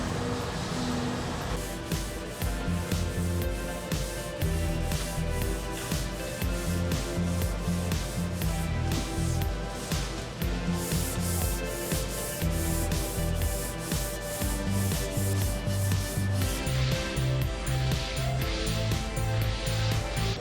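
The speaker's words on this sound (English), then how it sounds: "Got our small taco block for getting the small areas and our curve block for getting these edges and whatnot." A sanding block rubs over a primed fiberglass car hood in steady, repeated back-and-forth strokes, close and continuous throughout with no talking.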